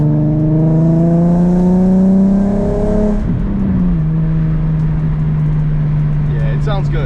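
A Nissan 350Z fitted with a Flashark Racing Y-pipe single exhaust revs loudly up, then drops back to a steady drone; close, raspy and heard alone without talk.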